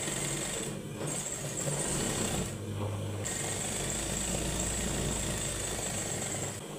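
A sewing machine stitches a belt seam on a six-panel round-neck dress, running steadily and continuously at close range with a low motor hum and rapid needle chatter, no voices.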